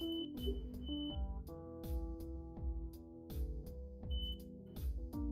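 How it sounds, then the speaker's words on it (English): A smoke or fire alarm going off steadily in the background, repeating electronic beeps at a regular rhythm over several seconds, fairly faint and heard on its own without talk. "Is there a fire alarm going off?"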